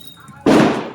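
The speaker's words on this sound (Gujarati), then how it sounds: "અને હવે પાછા ધડાકા સાંભળો તમે." A single sharp bang from a reloaded firecracker gun at Diwali bursts out of a quiet moment, loud and close, then quickly fades into a short rumbling tail.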